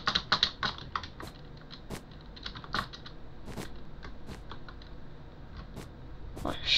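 Rapid keystrokes clatter on a basic office computer keyboard during gaming, a close, quiet stream of uneven taps and clicks with brief pauses and a few sharper bursts, alone without speech.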